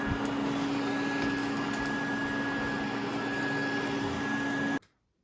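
A vacuum cleaner in a cluttered hoarded house runs steadily with a constant whine and droning hum at close range, then cuts off abruptly near the end.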